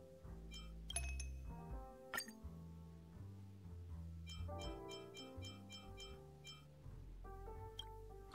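Ice cubes clink against a mini wine glass during drink mixing in the game Honkai Star Rail, a series of bright glassy taps and rattles, some quick clustered, close and clear with a low hum beneath.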